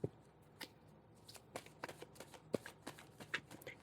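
Playing cards shuffled and drawn during a tarot-style reading, with a series of crisp riffles and snaps spaced irregularly, quiet and close, no talking.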